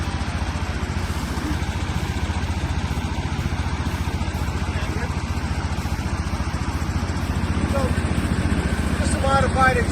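Gold dredge engine with a modified exhaust running at a steady idle by a river, a continuous rhythmic putter that grows slightly louder near the end, with voices talking over it.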